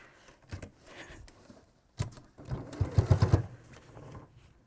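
Sewing machine stitching around the side seam of a fabric apron, heard in short bursts of rapid mechanical whirring with pauses between, moderately close and fairly quiet.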